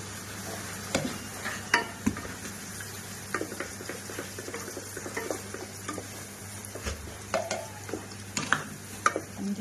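A spoon stirs mashed dried fish (sutki) in a pan, with irregular scraping clicks and taps over a soft low sizzle, close and without speech.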